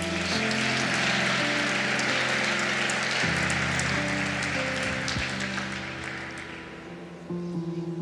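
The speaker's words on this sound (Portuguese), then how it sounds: "Alguém pode aplaudir mais uma vez Jesus?" Church congregation applauding Jesus in a sustained, steady wash of clapping over music with held organ or keyboard tones, fading slightly toward the end.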